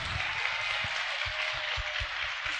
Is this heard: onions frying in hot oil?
no